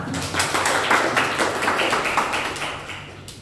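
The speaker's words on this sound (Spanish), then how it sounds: "un aplauso para ese chico" Applause for a student in a neurology class on headaches, a brisk burst of many hands clapping that stays fairly even for a few seconds before gradually thinning out.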